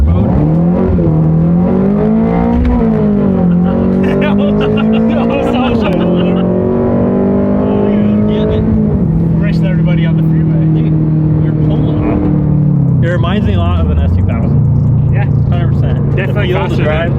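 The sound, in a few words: 2022 Subaru BRZ engine running on a dyno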